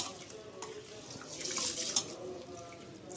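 Water running from a tap while rice is rinsed for dosa batter, a steady close splashing wash with small drips and sloshes rising briefly in the middle.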